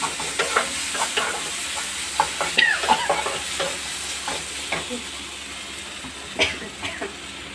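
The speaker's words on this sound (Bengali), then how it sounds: "রসুনটাও ভাজা ভাজা করে নিতে হবে।" Garlic fries in a pan and is stirred, with a loud close sizzle and repeated scraping strokes of a spoon against the pan throughout.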